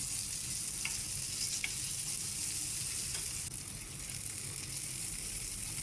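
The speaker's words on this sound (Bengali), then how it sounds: "মাছ রান্নার জন্য আমি পেঁয়াজটা একটু ভেজে নিচ্ছি" Sliced onion fries in a pan as the base for a fish curry, a loud, constant hissing sizzle with faint scrapes of stirring and no talk.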